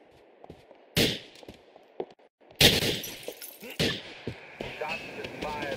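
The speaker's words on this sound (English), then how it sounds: "Shots is fired at the offices of Goldberg, Ligner, and Scheister." Gunshots ring out in GTA IV in several loud, sharp bursts with echoing tails inside offices, broken by brief pauses and a voice speaking between them.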